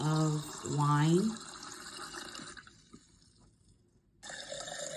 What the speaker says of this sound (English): the background noise is pouring of wine